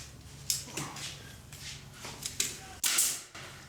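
A nail gun drives pins into a door frame during a door installation, giving a few sharp, loud pops at irregular intervals over low room noise and handling sounds.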